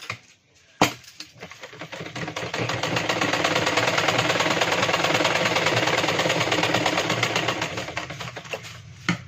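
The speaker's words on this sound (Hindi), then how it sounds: "इस वाले मुड्ढे पे भी बिल्कुल किनारे पे सिलाई लगाएंगे।" Electric sewing machine stitching along the edge of a 38-inch chest blouse seam, a steady continuous whirring run of about eight seconds after a brief click, fairly loud and close, with no talking.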